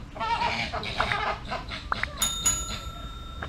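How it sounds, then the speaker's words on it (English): Chilean flamingos at a garden zoo in St. Petersburg, Florida give a few short, honking bird calls over a busy outdoor background, with a couple of brief sharper notes near the end. "I've never heard a flamingo make a sound before."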